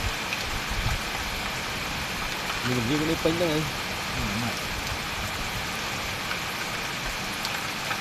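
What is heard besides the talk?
rain falling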